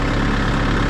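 A tractor engine idles on a sloped field, a steady dense low rumble, close and continuous for about a second, with no talk.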